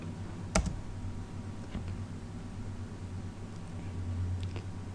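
Computer keyboard typing with a sharp Enter key press near the start, followed by a few faint scattered clicks over a steady hiss.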